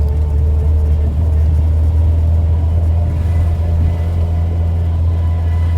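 A warm Austin Allegro engine idles and revs with an uneven, hesitating note, a steady low rumble throughout with a voice talking over it.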